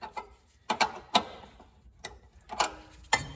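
A brake hose fitting being turned with a tool on a 1968 VW Bay Window bus during a disc brake conversion, heard as a handful of separate, close clicks and ratchet-like ticks spaced irregularly in a quiet space.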